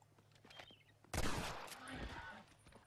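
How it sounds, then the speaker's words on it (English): Gunfire erupts in a Red Dead Redemption 2 multiplayer match as a lawman shoots from behind, a sudden loud burst of several shots over faint background noise, followed by lingering crackling reports. "fucking lawman's behind me, shooting me in the back"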